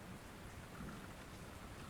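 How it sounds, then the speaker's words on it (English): Rain patters against a bedroom window during a thunderstorm, a dense, even wash of drops with a soft low rumble of thunder underneath, heard quietly and alone with no talking. "The flurry of rain patters against my window"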